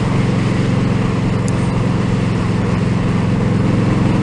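An Indian Scout motorcycle engine pulls steadily uphill under rolling throttle, a close, constant low thrum mixed with wind noise, without speech.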